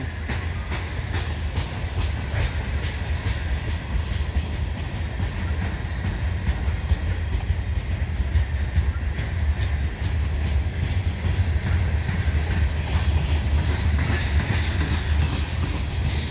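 A CN mixed freight train of boxcars and square covered hoppers rolls past at St Henri, a loud, continuous, close rumble with steady rhythmic wheel clatter throughout.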